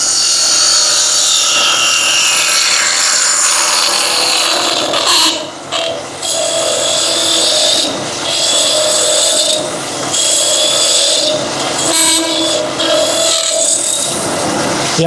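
Threading jig cutting a tapered thread into a wooden bolt, steady loud rasping and whirring of the cutter through wood, continuous and close, with small shifts in pitch as the cut deepens.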